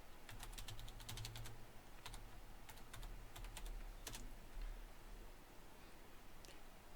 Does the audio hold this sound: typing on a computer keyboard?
yes